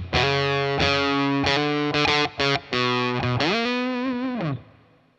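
Heavily distorted electric guitar plays a riff, loud and close, with sustained chords broken by short stops and a sliding bend before fading out.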